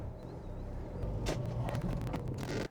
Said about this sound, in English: pull this car into the garage